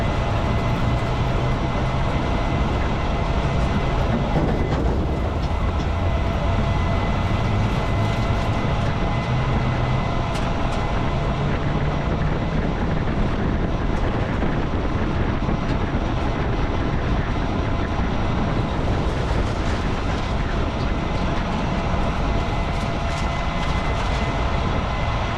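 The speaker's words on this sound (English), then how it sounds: "driving along, you'll hear random clunking up until the time I stop." A damaged race car in a racing video game drives on with a constant loud roar of engine and road noise, with irregular knocks and rattles scattered through it from start to finish.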